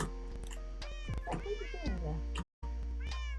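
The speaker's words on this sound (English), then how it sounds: "I'm sorry if you hear like background noises. The cats, my actual cats, are like terrorists." Pet cats meow repeatedly in the background, with several rising and falling, drawn-out cries over a steady hum, while a person talks at the same time.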